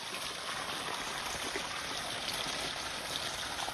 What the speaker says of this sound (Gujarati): હવે આ છે ને સેમ્બર અત્યારે પાણી અમે ચલાવી રહ્યા છીએ